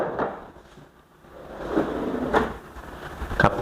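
A kitchen cabinet drawer with soft-close runners, part of a three-tier drawer set in a custom-made kitchen counter, slides shut, giving a few soft wooden knocks and thuds against light room noise.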